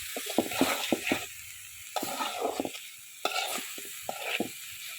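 Canal prawns being sautéed in a pan, bursts of stirring and scraping with a soft sizzle beneath, coming in three or four short clusters, close and moderately loud.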